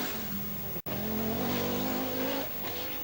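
Audi Quattro rally car with a sick engine, on the 1984 Circuit of Ireland Rally: a loud, steady engine drone holds at a sustained pitch and then eases off near the end, with a brief dropout early on.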